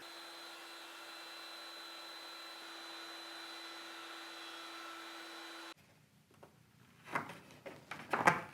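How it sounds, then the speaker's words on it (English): A router with a 1/8 inch radius roundover bit rounds the ends of floating tenon stock, a steady motor whine that runs for several seconds before stopping abruptly, followed by a few quieter handling knocks and clatters. "I'm going to use an 1/8 inch radius roundover bit, and that'll give me a profile on each end that matches the profile on the ends of the mortises"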